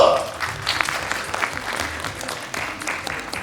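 An audience applauding a choreographer at a Miss National pageant event, dense clapping from a crowd running throughout, fairly loud and steady, with a voice over a microphone at the start.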